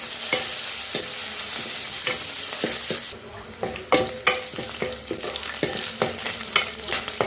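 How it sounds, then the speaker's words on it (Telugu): Green chillies and curry leaves fry in a pan for a mutton dish, giving a constant close sizzle punctuated by repeated sharp clacks of stirring. "రెండు పచ్చిమిరపకాయలు వేసానండి. కొంచెం కరివేపాకండి. వేగనివ్వాలండి."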